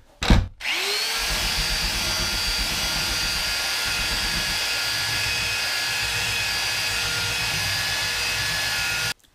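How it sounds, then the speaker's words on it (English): An old belt sander smooths the edges of Archimedes turbine parts, starting with a click and then running as a loud, steady, close whir with a constant pitch for the rest of the clip. "I've got this old belt sander here I'm just going to use to kind of sand off some of these edges to make sure they're all smooth."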